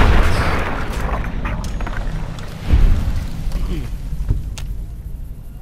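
Booming gunshots ring out in the video game Fallout: New Vegas, a few heavy reports over a dense, loud game soundscape with rumbling background noise.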